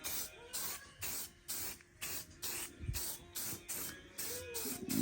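Rust-Oleum metallic spray paint hissing out of the can onto dirt bike parts in a series of about nine short bursts, each lasting roughly half a second with brief gaps between, up close.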